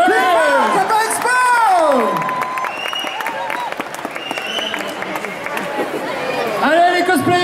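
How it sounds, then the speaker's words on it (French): An audience at a Japan Expo cosplay show claps and cheers loudly for the departing cosplayers, with sustained applause, whoops and chatter throughout and an announcer's voice calling over the crowd. "On les applaudit encore très fort, faites du bruit"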